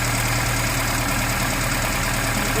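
A ZAZ car engine with a Solex carburetor idles steadily and evenly, a loud, close, continuous mechanical drone with a constant low rhythmic throb and no talk over it.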